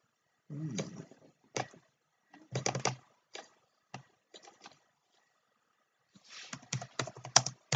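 Loud, close clatter of typing on a computer keyboard comes in bursts of rapid keystrokes separated by short pauses, with a denser flurry at the end.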